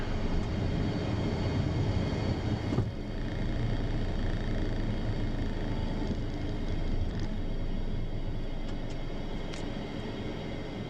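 Cabin of a Beechcraft Premier business jet climbing away after takeoff, a steady broadband engine and airflow roar with a brief thump near the start, no talking heard.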